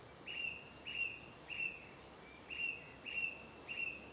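Distant thrush song on a Norfolk trail near Blakeney: a string of about six short, high whistled phrases repeated at an even pace, faint but clear over quiet open-air background.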